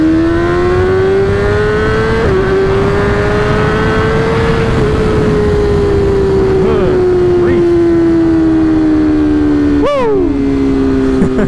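Motorcycle ridden at a steady gear without downshifting, engine droning loud and close with slow pitch drift, wind noise throughout and a sharp blip near the end.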